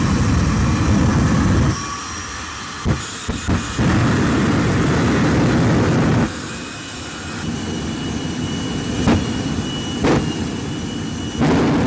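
A turbine-powered school bus rated at 25,000 horsepower roars with a loud, sustained jet-like whine and rush that dips briefly and returns, with sharp knocks and transients scattered through, and no talking.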